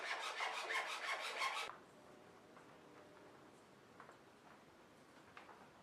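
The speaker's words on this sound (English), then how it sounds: "I'll use this carpenter's rasp to shape the exterior curves." A carpenter's rasp scrapes a training karambit's wooden curves in rapid, steady strokes for about a second and a half, loud and close, after which it gives way to faint handling noises and quiet scrapes.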